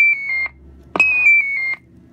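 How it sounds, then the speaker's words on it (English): Two high electronic roger beep tones from a Stryker 955 CB radio, the second opening with a short burst of static, sounding loud and clear against a faint background hiss. "It's got 8 different Roger beeps instead of your factory 4 or 5."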